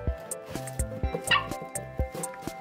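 A small toy dog yaps and barks repeatedly in quick bursts over a busy background of clattering and music-like tones, fairly close, during play with a Lego Friends toy ice cream truck.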